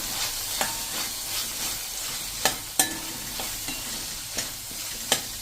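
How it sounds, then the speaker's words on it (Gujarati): Spices with amchur powder, coriander-cumin powder and other masala being stirred in a hot pan, a soft continuous sizzle broken by sharp spoon scrapes and taps against the pan, close and without talk. "અને હવે આપણે આ બધું મિક્સ કરી લેશું"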